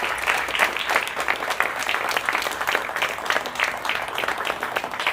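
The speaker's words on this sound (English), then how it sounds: "Let's give all of the staff, the team, a round of applause for all of their hard work." Scattered applause from a smaller gathering at a Cavender's Boot City store ribbon cutting, with individual claps distinct in a moderately dense, uneven rhythm, somewhat distant.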